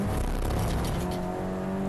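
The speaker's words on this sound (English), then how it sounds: "Again, there is the Semprini Honda." A Honda touring race car at Snetterton in a Clubsport Trophy race, its engine roaring steadily as it passes on the track, loud and continuous with no talk over it.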